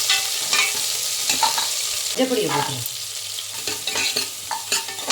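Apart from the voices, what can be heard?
onions being stirred and sautéed in a pan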